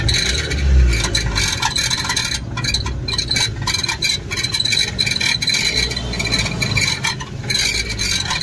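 The exhaust silencer of a Suzuki Baleno rattles and buzzes while the engine is revved, a continuous metallic scraping vibration that stays loud and close throughout with no voices.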